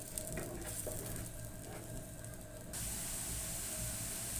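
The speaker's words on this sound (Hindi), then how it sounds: "प्याज के पेस्ट देख सकते हैं अच्छी तरह फ्राई हो चुका है" Ground onion paste frying in a pan for a korma gives off a steady soft sizzle and hiss that swells noticeably brighter and louder about two-thirds of the way through, continuous with no voices.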